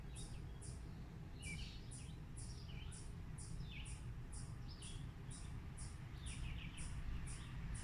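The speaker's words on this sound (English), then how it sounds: "I can hear a couple of different birds in the vicinity." Birds chirp and sing in a backyard, short high calls repeating steadily throughout over a constant low rumble of distant machinery, with no talking.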